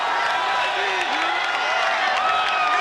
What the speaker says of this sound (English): And listen to these fans as that celebration happens.